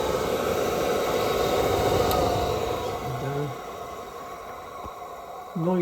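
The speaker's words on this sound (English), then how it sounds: "Noisy, but these blowers always are noisy." A replacement blower fan for a KWS-1 runs on a bench, held in place with a bit of insulation to damp vibration, giving a loud, steady broadband whoosh with a low hum that eases slightly partway through, then swells again at the end.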